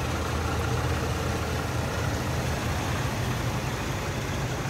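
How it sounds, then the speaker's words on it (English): A 1985 Oldsmobile Delta 88 Royale sedan's 307 V8 idles smoothly, a steady, dense engine rumble close up and unbroken throughout, with no speech. "You hear how smooth that 307 runs?"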